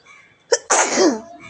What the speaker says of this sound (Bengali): কাশি আর এই হাঁচি বাপরে